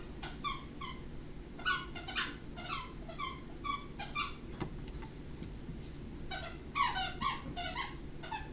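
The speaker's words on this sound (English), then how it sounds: "That dog loves him some squeaky toys." A dog's squeaky toy squeaks in the background in quick repeated bursts of shrill squeals, with brief pauses between the clusters, over a low steady hum.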